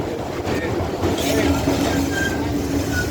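An R62A 1 subway train at 125 Street station rumbles past loudly and close, with steady rolling wheel noise, clattering and a few thin metallic squeals, continuous over the whole stretch.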